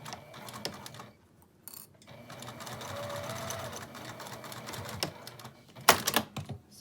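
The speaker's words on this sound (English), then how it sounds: "sew them both together on each side." Sewing machine stitching two half-inch-wide fabric strap pieces right sides together with a lengthened stitch, a steady close mechanical whir in bursts with brief pauses and a sharper clack near the end.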